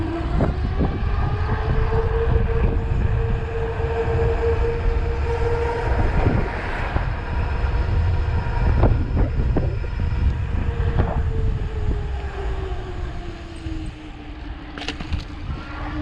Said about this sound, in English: Downhills feel very good, especially that wind rush.